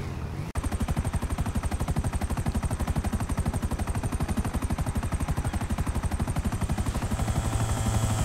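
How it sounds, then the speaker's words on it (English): Helicopter flown in a multiplayer shooter video game, its rotor chopping in a steady, rapid, close and loud rhythm that runs unbroken after a brief start, with no talk over it. "you fly the helicopter"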